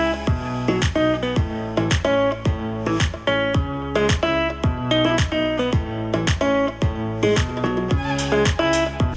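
Music with a steady, punchy beat plays through a local karaoke speaker fed from a Simgot DEW4X DAC, with regular drum hits and sustained melodic tones filling the clip, no voices over it.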